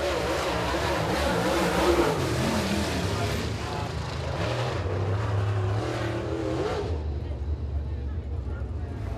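Super late model race car lapping the Eriez Speedway oval in qualifying, a loud roaring engine sweeping past amid broad track noise, fading toward the end.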